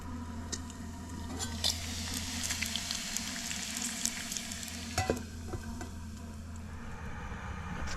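Spicy bacon frying in a pan in a camper van, with a steady, close sizzle and crackle that runs throughout, dotted with a few sharper pops and spits.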